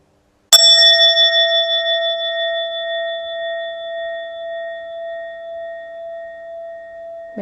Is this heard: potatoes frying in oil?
no